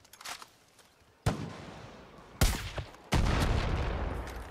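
Enemy gunfire in the video game Far Cry New Dawn: a few sharp, loud shots crack out at irregular intervals, each followed by a rumbling tail, the last burst trailing into a sustained roar.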